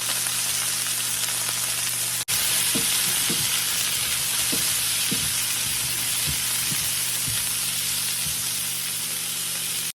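Vegetables stir-frying in a hot pan for homemade sweet and sour chicken, a steady loud sizzle throughout with repeated scraping stirs, no talking.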